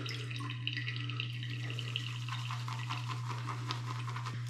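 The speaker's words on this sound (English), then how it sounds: "we're gonna get our lather ready." A synthetic shaving brush swirls and whips lather from Noble Otter shaving soap, giving soft wet squelching and brisk scrubbing strokes that grow busier, quiet and close, without speech.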